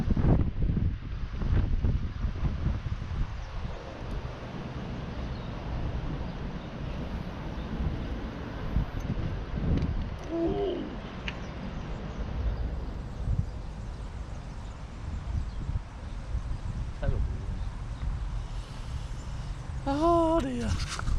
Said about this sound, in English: Casting's become very difficult because of this wind.